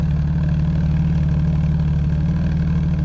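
A car's exhaust rumbles steadily at idle in London traffic, a close, continuous low engine drone with no talk over it.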